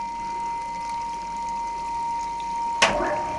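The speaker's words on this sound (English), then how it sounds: "coolant on" Coolant bursts onto the work on a lathe, a sudden splashing gush near the end following a steady machine hum with a clear high whine.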